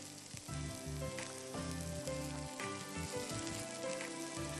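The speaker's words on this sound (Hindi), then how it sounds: "अच्छी तरह शाताज कुकिंग ऑयल में आप इसको भूनिए।" Vegetables (cauliflower, leek or white part of green onion) frying in cooking oil for a velvety white soup, a soft, continuous sizzle under quiet background music, fairly faint and even throughout.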